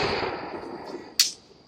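A snap popper thrown onto the ground outdoors at a Fourth of July gathering gives one sharp, close crack near the end. It follows a stretch of steady background hiss and faint noise.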